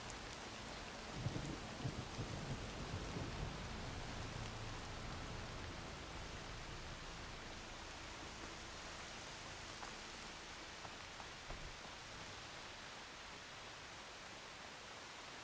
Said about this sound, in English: It's a very nice calming sound, though, this rain.